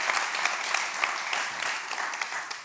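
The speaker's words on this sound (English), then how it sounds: "A round of applause for them," A conference audience at a Scrum Day Europe session applauds the two speakers, with a continuous wash of clapping from many hands heard at an even level throughout.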